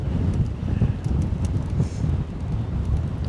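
Gusty wind buffets an outdoor microphone at Zurich airport, loud rumbling low-end bursts rising and falling throughout with rustling on top.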